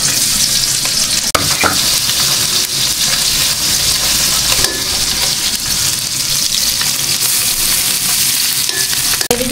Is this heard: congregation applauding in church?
no